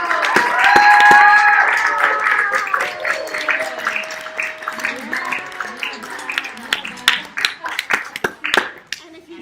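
An audience applauds Michael, a costume wearer at an evening general meeting, with clapping that starts dense and loud, then thins into scattered claps while people talk and murmur over it.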